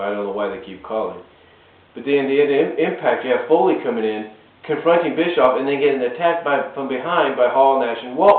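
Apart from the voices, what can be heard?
None of the usual background noises is heard.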